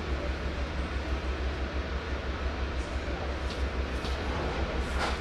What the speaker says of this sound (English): we're back on the train